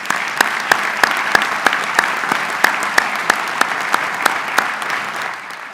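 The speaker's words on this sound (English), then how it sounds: "Let's give these special people a round of applause." Loud, close round of applause from an audience at a university engineering commencement, many hands clapping in a dense wash with sharp, regular claps from a few nearby people standing out, sustained and steady.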